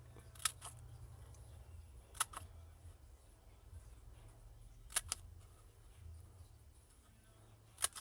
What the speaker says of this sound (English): Let me just cut some.